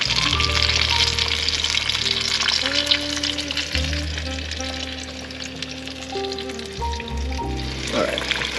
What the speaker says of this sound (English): Now it's kind of at a good temp for frying.